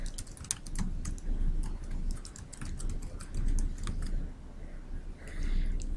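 Typing on a computer keyboard, a steady run of rapid clicky keystrokes in close, continuous bursts for the whole stretch, with a quieter room hum underneath.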